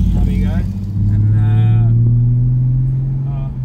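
A Toyota Hilux with a 2JZ engine pulls on boost, a steady close engine drone that swells slightly as it builds, under someone talking.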